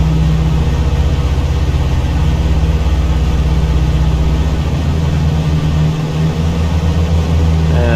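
Twin piston engines of a simulated Milviz PA-30 Twin Comanche drone steadily with a deep, even hum, the pitch shifting slightly as power changes near the end.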